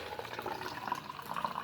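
Water trickles and splashes into a small bowl of egg dye made with food colouring and a teaspoon of vinegar, a soft, steady pour heard up close with faint kitchen ambience.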